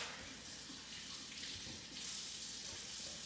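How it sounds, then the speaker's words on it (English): Running water from a tap rinses shell off a bouncy egg, a steady close hiss of flowing water with no talk. "you can rinse this off with water too to get the rest of the shell off"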